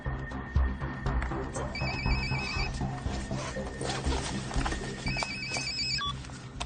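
A cartoon telephone rings with a repeating electronic ringtone, two bursts of tones separated by a gap, heard over a busy, clattering background.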